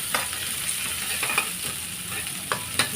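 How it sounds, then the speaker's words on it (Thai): Sizzling and crackling of chili and garlic frying in hot oil, steady and close, with a few sharper pops and scrape-like stir sounds. "น้ำมันร้อนใส่พริกกระเทียมลงไปค่ะ"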